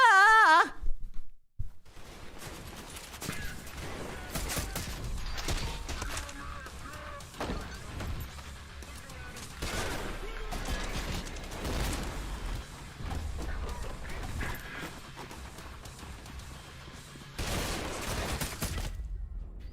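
Enemy gunfire in a shooter video game, dense bursts of loud, rapid shots and bangs layered over a busy game soundscape for most of the stretch, with brief honking, goose-like squawks at the start.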